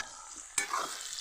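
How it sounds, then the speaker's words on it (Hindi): A pan of vegetable curry with potatoes sizzles softly on the stove, with a brief stirring scrape partway through the short, quiet clip. "ये पक रही है अभी सब्जी"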